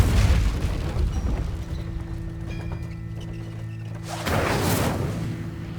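A fire spell cast in the video game Hogwarts Legacy gives a loud, low boom of flame at the start, then a steady magical hum, and another fiery burst swells up near the end.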